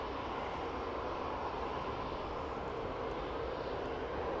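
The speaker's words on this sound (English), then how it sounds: "lots and lots of EasyJet flights taking their leave" An EasyJet Airbus A320 airliner departs Manchester Airport, a steady, continuous jet engine roar heard from a distance with no talking.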